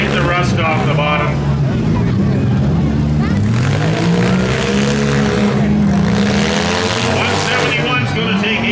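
Small cars in a mini demolition derby heat in Beeton, Ontario roar and rev continuously, engines rising and falling as they ram each other, with an announcer talking over the loud, constant motor noise.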